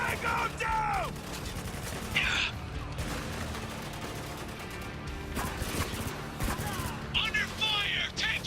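Gunfire in the war shooter Spec Ops: The Line, with bursts of rifle shots and a sustained firefight across the whole stretch, loud and dense, with shouting voices mixed into the battle.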